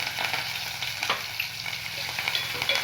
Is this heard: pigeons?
no